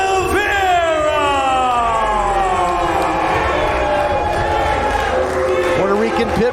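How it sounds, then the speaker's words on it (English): A wrestling crowd at Heritage Hall cheers for EJ Sparks at an Arizona state championship match. The cheering and whooping is loud and sustained and fills the whole stretch, with voices rising over the roar. "the crowd split here, certainly a resounding appreciation for EJ Sparks"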